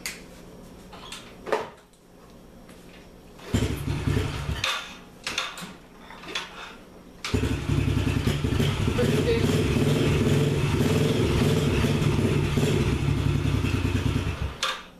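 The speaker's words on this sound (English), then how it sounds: "Now here is the kickstart." A 2008 Yamaha TTR-110 dirt bike is kicked over with a few clunks and brief revs, then its small engine catches and idles steadily and close. Someone talks early on.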